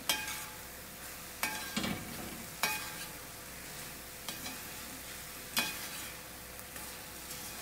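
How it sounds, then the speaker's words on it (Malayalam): Pineapple halwa cooking in ghee and coconut over a high flame: a constant close sizzle with regular scraping strokes of a spoon against the pan every second or so. "ഞാനിപ്പോൾ നല്ല ഫ്ലെയിം കൂട്ടി വെച്ചിട്ടാണ് ഇത് വേവിക്കുന്നത്"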